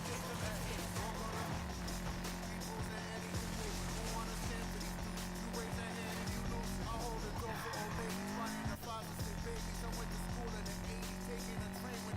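Engine roar and tire squeal from a car race in the video game Need For Speed Payback run continuously and loud, with a skidding sweep partway through and game music underneath.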